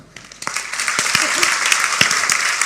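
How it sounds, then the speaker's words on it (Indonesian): Church congregation applauding during a sermon by a pastor, a dense wash of clapping that swells quickly from a quiet start and holds steady, with a few distinct claps and a faint voice briefly audible. "Tepuk tangan untuk Alkitab."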